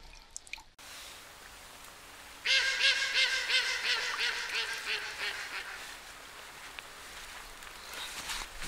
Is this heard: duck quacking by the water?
yes